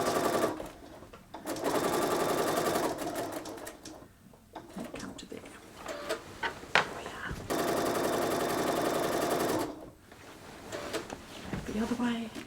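A sewing machine quilting fabric runs in several sustained whirring bursts with short pauses between them, heard close and loud.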